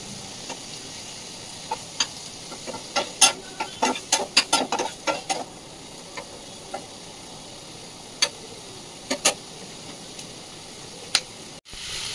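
Chicken fries in a pan with a steady low sizzle, and sharp scraping clicks of stirring come in quick clusters, then a few scattered taps before a final clatter.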